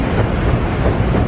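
A train at Waterloo station in London, a loud, dense rumble of rail noise close by that runs steadily through the whole moment, with no voices.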